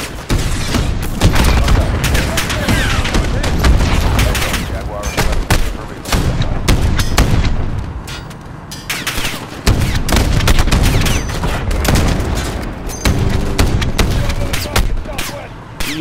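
Dense, loud gunfire and booming explosions in a Call of Duty campaign finale, continuous volleys and blasts overlapping throughout with brief dips between barrages.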